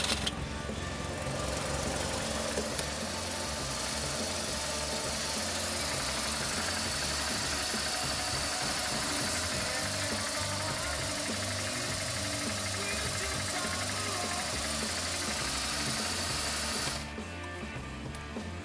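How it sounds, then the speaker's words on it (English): A BMW R1200GS motorcycle engine runs at a steady idle, a continuous close mechanical thrum that holds level for most of the stretch before dropping slightly near the end. "Now start the bike."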